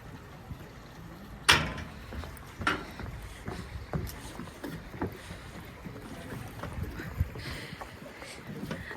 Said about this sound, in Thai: เรือลำนี้เป็นลำที่เจ็ดของเราจ้ะ